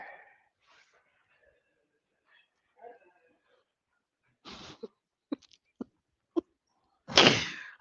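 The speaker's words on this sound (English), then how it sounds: "The dog is too much." A dog gives a string of short, sharp barks, faint and well spaced at first, then a louder burst at the end, with a snort or sniff before them and near-silence between.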